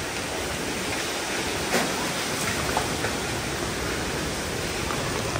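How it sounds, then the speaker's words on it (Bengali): Strong wind from a sudden storm roars as a dense, unbroken rush of noise, loud and close against the microphone, with no talking. "নিমিশে ওয়েদার চেঞ্জ হয়ে গেল। মাশাআল্লাহ খুবই বাতাস।"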